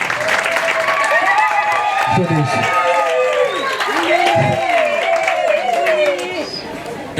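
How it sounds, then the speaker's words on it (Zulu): Audience in a tent at a Zulu cultural month closing event applauding a councillor, steady loud clapping and cheering throughout, with an MC's voice and crowd chatter over it. "Sacela shaya izandla ezinkulu Thukumeni sonke njengamanje."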